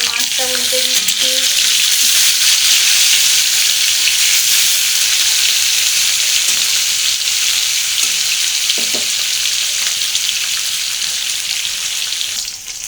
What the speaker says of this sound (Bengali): এবার মাছটা উল্টে দিচ্ছি।